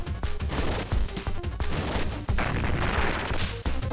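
Rapid repeated weapon fire from a homing gun in Contra: Hard Corps, dense bursts of shots over busy game music and effects, loud and continuous with no talk.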